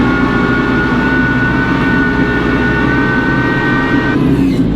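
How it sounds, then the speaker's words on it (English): A farm tractor spreading slurry on wet ground holds a loud, steady engine drone with a sustained tone that shifts near the end as it changes gear, close up and without talk. "Oh, nice gear change, Tom."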